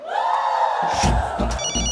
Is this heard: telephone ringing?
yes